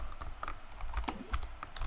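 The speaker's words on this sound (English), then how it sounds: "I don't think you can see me typing this" Steady typing on a computer keyboard, a quick irregular run of close, crisp key clicks with no talking.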